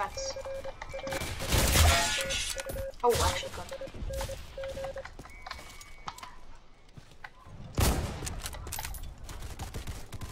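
Gunfire in a war video game of entrenched town fighting: scattered sharp shots and a couple of heavier blasts over a steady background, with a voice talking between them.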